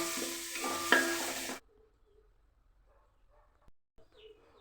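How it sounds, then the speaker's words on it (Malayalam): Sliced onion, cut lengthwise, hits hot oil in a pan with a loud burst of frying sizzle and stirring for about a second and a half, then cuts off to near silence with faint clinks. "ഓയിൽ നല്ല ചൂടായതിന് ശേഷം നമുക്കൊരു ചെറിയ സവാള കട്ട് ചെയ്ത് വെച്ചിട്ടുണ്ടായിരുന്നു നീളത്തിൽ അതും കൂടി ഇട്ട് ജസ്റ്റ് ഒന്ന് വയറ്റി കൊടുക്കുക"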